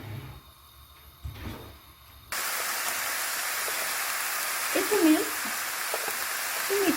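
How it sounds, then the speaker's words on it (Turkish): After some quiet clatter, diced red meat hits a hot pan and a loud, steady sizzle takes over, with occasional stirring scrapes underneath. "Yarım kiloda küçük küçük doğranmış kırmızı etimi aldım. Bir miktar kavuracağım."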